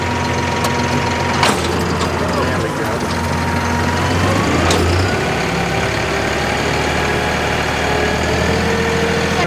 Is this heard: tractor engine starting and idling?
yes